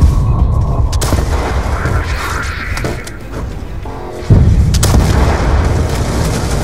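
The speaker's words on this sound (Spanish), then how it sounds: "Disparando a los ASD enemigos" Heavy booms and gunfire rip through a Call of Duty: Black Ops II campaign firefight, a dense loud barrage with a sharp, forceful blast erupting midway and firing continuing after.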